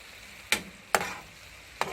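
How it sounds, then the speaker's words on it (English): Curry shrimp frying in a pan and being stirred, with a steady soft sizzle under three sharp scraping strokes of a utensil, close up and without talk. "I'm just giving it a stir"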